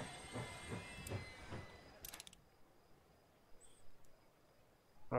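Train passing in a Moscow-bound video game, a rumbling rattle with clicks that fades out after about two seconds and leaves a quiet, faint background.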